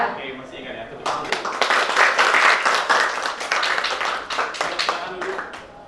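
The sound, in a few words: classroom clapping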